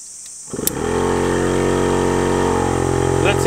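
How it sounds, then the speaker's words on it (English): A solar-powered dam aerator pump is plugged back in after its supply is set to about 13 volts. After a brief silence it kicks on and settles into a steady, loud, even motor hum that runs without a break. "And now I'll plug the pump back in."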